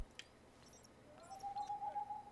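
In the video game Division 2, a puzzle-completion audio cue plays as a single soft owl hoot, a faint, drawn-out tone heard alone against a quiet background.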